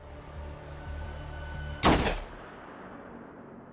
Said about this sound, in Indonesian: John menembak di kepala untuk bukti kalau Gianna mati karena ditembak